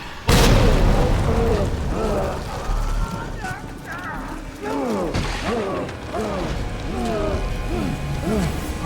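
A frag grenade in the Resident Evil 2 video game goes off with a loud, sudden blast, followed by a rumbling tail while warbling creature or voice-like sounds continue over it.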